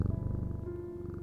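A cat purrs with a close, steady low rumble that pulses evenly and rhythmically throughout, soft and continuous with nothing else heard.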